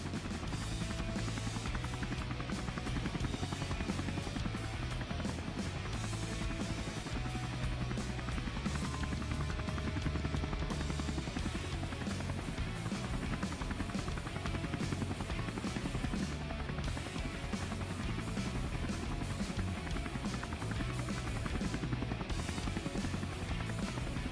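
A cattle-herding helicopter drones steadily throughout, its rotor thump and engine roar dense and continuous, fairly close, with no voices.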